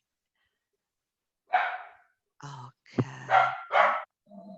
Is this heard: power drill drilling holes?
no